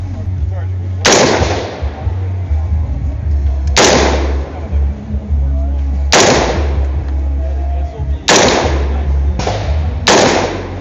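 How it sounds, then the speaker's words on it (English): A .308 AR-10 rifle fired at an outdoor range, five loud, sharp shots spaced a couple of seconds apart, each with a short booming tail, over low background rumble. "There's a 308 AR-10."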